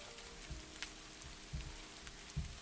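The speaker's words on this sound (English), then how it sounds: "let's get the rain back on first" Rain ambience playing in the background, a faint, even patter of drops on a surface, with a few soft low thumps scattered through the steady hiss.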